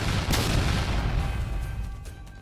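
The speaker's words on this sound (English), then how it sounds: "And more gunshots." Gunfire on a recorded emergency 911 call during a shooting, a heavy burst up front with a broad boomy rumble that fades slowly, sounding muffled and distorted through the phone line.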